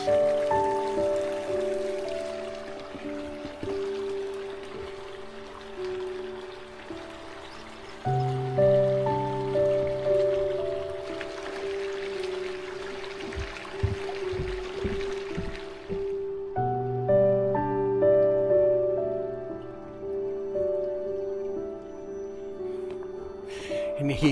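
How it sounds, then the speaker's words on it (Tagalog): Stream water rushes and trickles steadily throughout, blended with sustained tonal music playing over it. "Nung agos ng tubig."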